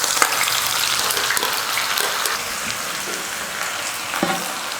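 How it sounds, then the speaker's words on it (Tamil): Sliced onions fry in hot oil for chicken tikka. A steady, dense crackling sizzle runs close and constant, with occasional small pops and no talk. "டிக்கா பண்ணுறதுக்கு முன்னாடி வெங்காயத்தை நல்லா ப்ரௌன் கலராக வறுத்து எடுத்துக்கலாம்."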